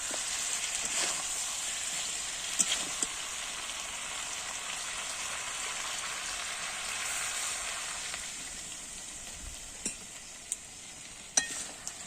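Steady sizzling from coriander chicken cooking in a pan as water is added and stirred, a continuous hiss with a few faint clinks and taps near the end, no speech.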